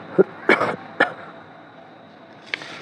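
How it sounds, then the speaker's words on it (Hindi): A few short, sharp coughs in quick succession near the start, then a pause and one more faint cough near the end. "थोड़ी खांसी आ रही है।"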